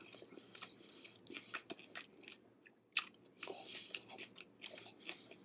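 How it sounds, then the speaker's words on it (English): Crunchy bites and chewing of a crispy lemongrass chicken banh mi with jalapenos, close up, irregular crackly bursts spread across the clip with no talking. "So let's go. I'm just going to eat it."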